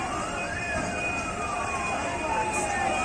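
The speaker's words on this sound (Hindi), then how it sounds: "फायर डिपार्टमेंट की तमाम जो गाड़ियां हैं, फायर ब्रिगेड की टीम मौके पर मुस्तैद है" A fire brigade vehicle siren wails at a building fire in Delhi, its long rising and falling tone sounding steadily at mid distance over a dense noisy background.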